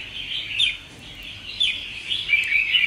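A songbird with lân tê colouring sings close and loud, giving short chirping phrases in repeated bursts with brief pauses between them; no one speaks.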